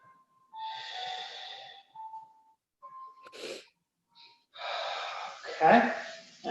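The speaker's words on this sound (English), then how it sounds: "let's take some breaths." Deep breathing during a yoga class, several slow, audible inhales and exhales close to the microphone, with a faint tone and light rustling between breaths.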